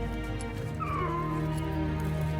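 Horse neighing, a single whinny rising then falling over a steady hum of background sound, moderately loud and clear.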